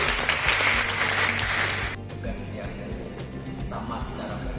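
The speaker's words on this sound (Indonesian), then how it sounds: "Tepuk tangan Bapak Ibu." A church congregation gives loud, dense applause for about two seconds before it thins into scattered clapping and room murmur.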